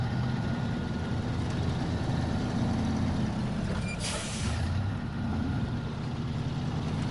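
A truck engine drones steadily in the SnowRunner video game, a constant low rumble with a brief hissing burst midway, no talk over it.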